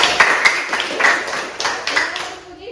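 Students in a classroom lesson clap together in a short, rhythmic round of sharp hand claps, close and moderately loud, fading out at the end.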